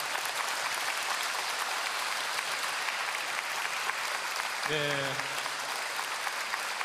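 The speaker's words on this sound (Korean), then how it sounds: "다시 한번 박수 부탁드리겠습니다" An audience at a celebratory concert for the installation of Archbishop Yeom Soo-jung as head of the Seoul archdiocese applauds steadily and loudly throughout, with a voice briefly heard over the clapping.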